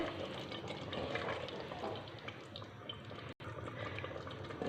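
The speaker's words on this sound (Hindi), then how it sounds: "इसको हम 5 से 10 मिनट के लिए हाई फ्लेम पे चनों को भून लेंगे।" Black chickpeas roast in a pan over high flame with a steady, dense crackling hiss that stays at an even level and breaks off for a brief gap near the end.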